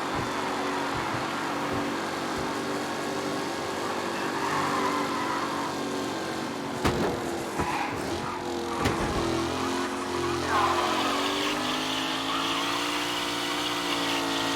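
Racing cars roar past in a race in the Mafia Definitive Edition video game, engines droning steadily with rising and falling pitch as vehicles pass close, loud and continuous throughout with no talk.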